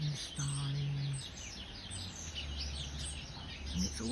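Sparrows chirp in quick, bright bursts around a small woodland garden, steady overlapping calls at moderate distance over a low background hum.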